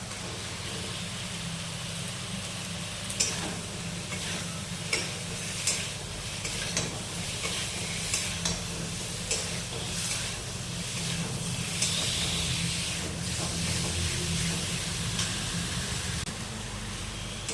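Spice masala sautéing in a pan for an egg and potato curry, a continuous soft sizzle with regular scraping strokes of a spoon stirring, moderately faint.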